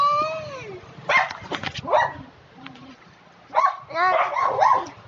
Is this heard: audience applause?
no